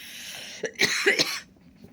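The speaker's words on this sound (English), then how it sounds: "I got an allergy cough." A few sharp, close allergy coughs in a quick burst, with a short throaty rasp, over a quiet room hiss.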